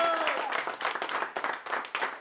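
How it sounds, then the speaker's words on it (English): A group applauds basketball coaches after a comeback win against Brebeuf, giving uneven, bursty clapping that swells and dips in waves, with brief voices and a faint squeak-like tone near the start. "Clap it up for coaching for coaches."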